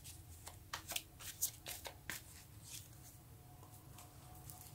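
Tarot cards being shuffled by hand, a run of quick, soft riffling flicks and taps close by, busy for a few seconds and then tapering into quiet.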